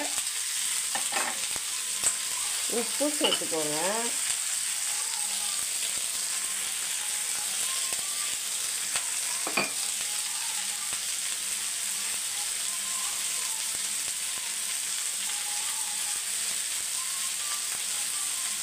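Food sizzles steadily in a hot pan with a constant frying hiss and occasional stirring clinks as turmeric powder and curry leaves are added, while a person speaks briefly near the start.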